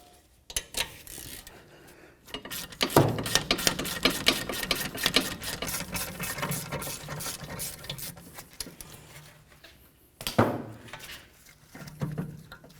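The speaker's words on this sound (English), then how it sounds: "let's continue on by removing our slider pins here. For that, we're going to use an 8mm Allen head" Rear brake caliper slider pins on a 2012-2019 BMW 328i are loosened with an 8mm Allen head, making rapid close ratcheting clicks in long bursts separated by short pauses.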